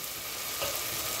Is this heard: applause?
no